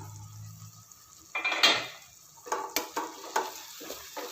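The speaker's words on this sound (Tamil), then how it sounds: "இப்போ லிட்டு ஓப்பன் பண்ணி பார்க்கலாம்" A lid is lifted off a cooking pot of green peas masala gravy, a clear metallic clank followed by several sharper clinks of metal on metal in a quiet kitchen, with no one talking.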